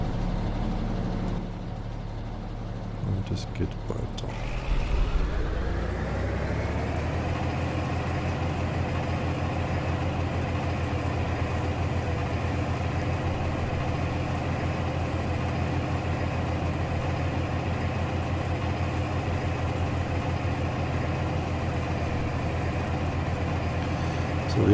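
A tractor engine in Farming Simulator 22 starts up after a brief quiet spell, then settles into a steady, droning low rumble that runs unbroken. Someone speaks briefly near the start.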